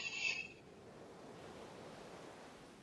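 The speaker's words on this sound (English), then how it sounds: "Listen to the water." Ocean waves washing in a soft, steady hiss of surf, preceded by a brief higher tone at the very start, with no voices.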